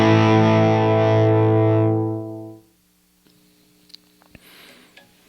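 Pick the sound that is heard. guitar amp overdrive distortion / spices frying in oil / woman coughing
guitar amp overdrive distortion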